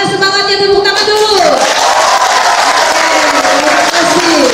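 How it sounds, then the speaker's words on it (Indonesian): An audience at a church youth day celebration breaks into loud applause and crowd noise during a prize-giving, rising from under a voice at the start into a sustained, even wash of clapping. "Mana semangatnya, tepuk tangan dulu."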